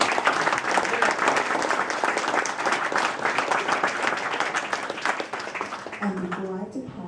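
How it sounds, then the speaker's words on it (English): A crowd at a DC Council Member's election night event in April 2012 bursts into loud, dense applause that fills the room for about seven seconds, with voices rising near the end. "So let's give ourselves a round of applause"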